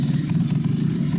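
A motorcycle engine idles steadily and a little high after an oil change, a close, even low rumble with a faint mechanical clatter.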